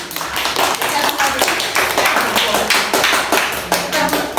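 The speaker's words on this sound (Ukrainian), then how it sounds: "аплодуємо гравчині під номером" A group claps steadily for a player during a children's mafia party game indoors, the applause dense and continuous at close range with some voices mixed in.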